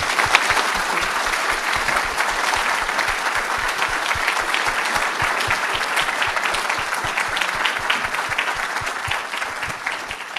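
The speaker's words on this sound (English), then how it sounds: "please join me for a round of applause" An audience at a keynote lecture event gives sustained applause, many hands clapping densely and steadily for about ten seconds, fairly near and even in loudness.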